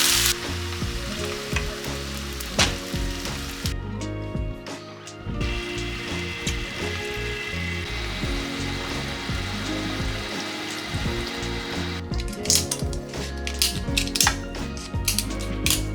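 Onions, two kinds of mushrooms and tomatoes sizzle steadily in a pan for vegan sukiyaki, a continuous close frying crackle with occasional stirring scrapes and no voices.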